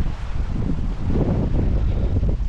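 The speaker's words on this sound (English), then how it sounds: "The wind can't decide what it wants to do." Wind gusts beside a river, a continuous low rumble buffeting the microphone at close range, with no voices.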